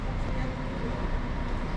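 Steady low rumble and broadband hum of a train standing at Krakow station, a continuous even roar with no distinct events.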